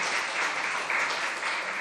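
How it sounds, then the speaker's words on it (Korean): A church congregation claps together during a Sunday service, a dense, steady wash of applause filling the room for the whole short stretch with no voices over it. "우리 박수 좀 해드립시다."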